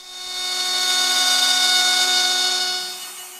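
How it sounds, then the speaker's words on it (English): An X-Carve CNC machine roughing the back contour of a guitar neck with a 1/4 inch end mill, giving a steady, close whine with sustained tonal cutting that fades in and out over a few seconds. "the back contour was roughed in using my 1/4 inch end mill."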